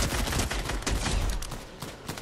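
Dense overlapping gunfire from a Fortnite match, a loud fusillade of rapid shots crackling continuously with no pauses and no talking.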